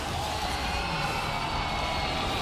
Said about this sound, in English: Elation from the crowd as Loud will win their first game